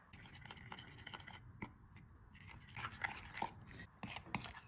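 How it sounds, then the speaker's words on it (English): A cheese and egg mixture for vegetarian carbonara is stirred by hand in a bowl, giving quiet, uneven clinks and scrapes of a utensil against the dish, close up and soft, with short pauses and no talking. "So I'm just gonna mix this up and then see the consistency of it from there."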